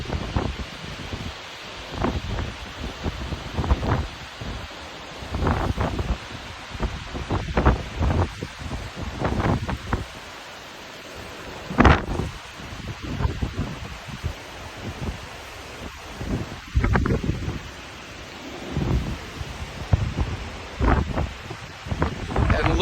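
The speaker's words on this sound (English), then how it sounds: "I just want you to hear the sound of the wind blowing through these spruce trees" Wind gusts through spruce trees in a state park, uneven bursts of rustling and whooshing that rise and fall in waves, with the wind also buffeting the microphone.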